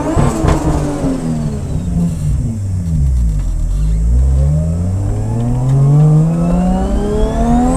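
A boosted, caged 450 hp Nissan S14 with an RB25DET engine revs hard and loud up close, its pitch sweeping down then climbing steadily as it accelerates, heavy rumble throughout.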